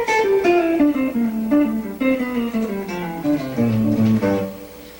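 A guitar run descends smoothly in a single connected line of quick notes, played with pick-slur-pick fingering so the notes blend legato rather than sounding as separate plucks, loud and close with no talk.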